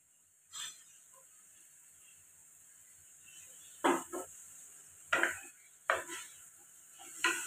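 Onion, greens and tomato stirred in a pan, with a soft sizzle of frying under several scraping strokes of a spoon against the pan, close and moderately loud.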